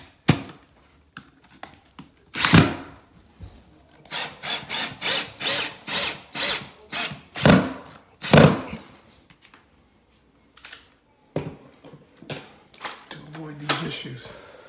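A power drill drives screws into a plywood subfloor laid ahead of laminate flooring, with a run of short, evenly spaced whirring bursts, close and fairly loud, separated by brief silences.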